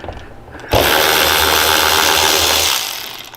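A power tool whirs loudly and steadily for about two seconds while removing blinker bolts from a 2015-or-newer Harley-Davidson Road Glide fairing, starting abruptly and winding down at the end, close and alone.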